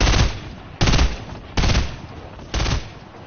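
Video game gunfire in four sharp, loud bursts spaced under a second apart, each shot cracking close and decaying quickly into a short rumbling tail.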